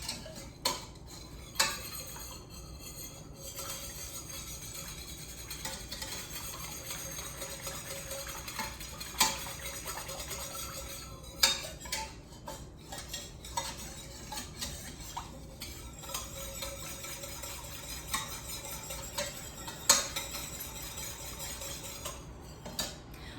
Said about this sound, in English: And now I'm going to use the whisk again.